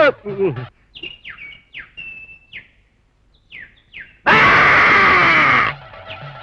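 A performer vocally imitates a loud, sustained yell in a comedy skit, a single blaring cry of over a second that comes after a run of short chirping vocal sounds.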